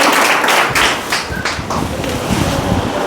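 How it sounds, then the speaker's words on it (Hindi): Children in a classroom clap their hands in a quick, uneven burst of slaps, close and fairly loud, with a voice heard briefly over the applause. "चलो ताली बजाओ जी, बड़े"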